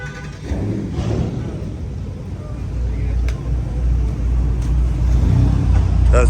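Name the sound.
Hellcat Redeye V8 car driving on highway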